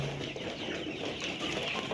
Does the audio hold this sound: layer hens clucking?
yes